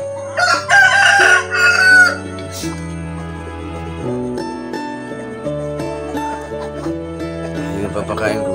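Backyard chickens at a Filipino home crow loudly and cluck up close for a couple of seconds while being fed leftover rice, then music plays with quieter fowl sounds underneath.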